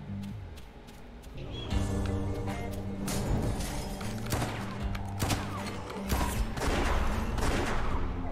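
Gunfire from the West of Dead video game, with repeated shots and impacts layered over a constant loud game soundtrack and effects throughout, no talking.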